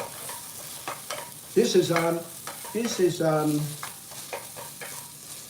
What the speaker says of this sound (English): And then I put the rice here. Oh, I put the rice here. And I stir.